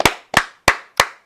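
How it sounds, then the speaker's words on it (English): Four sharp, evenly spaced hand claps ring out close and loud, each with a quick decay, and nobody speaks. "I love the two claps."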